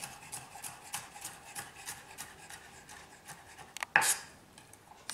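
A knife slices and dices an onion on a cutting board, making a series of short, rhythmic rasping cuts up close, followed by a louder scraping clatter near the end.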